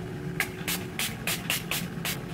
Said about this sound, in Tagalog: Tapos, spray nyo lang all over your face.